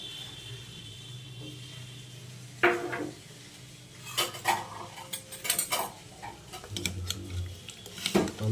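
A pressure cooker is opened after cooking a curry with five whistles, followed by metal pots and utensils clattering in a few sharp bursts, with a low hum in the background and no talking.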